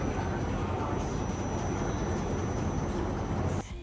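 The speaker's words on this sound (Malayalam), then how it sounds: "നമ്മൾ വന്ന ട്രെയിൻ" A direct passenger train in Slovenia rumbling steadily, a broad continuous roar with a faint high whine, cutting off abruptly near the end.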